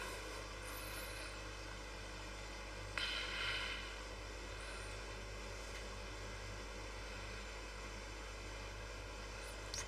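A320 jet engines in a flight simulator game give a steady, faint, broadband roar during the climb after takeoff, with a low constant hum and a brief louder swell partway through.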